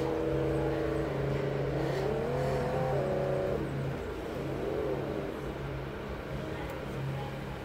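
A car engine in the Roblox game Greenville revs up with rising and falling pitch for a few seconds, then idles steadily, close and fairly loud over a continuous low hum.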